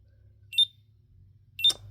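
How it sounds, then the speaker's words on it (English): Two short electronic beeps from a toy device, about a second apart, high-pitched chirps over a low steady hum. "it's going to start beeping at us"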